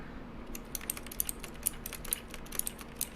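Computer keyboard keys clack in quick irregular bursts while a game is played, close and fairly crisp, with no talking.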